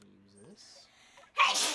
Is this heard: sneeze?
yes